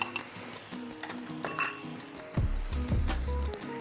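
Sauce mixture poured into a pan at a camp breakfast setup, with clinks of metal cookware and a soft sizzle swelling in the second half, close and fairly quiet.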